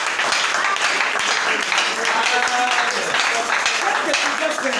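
A church congregation bursts into steady, dense applause and clapping that fills the whole moment, with voices talking over it.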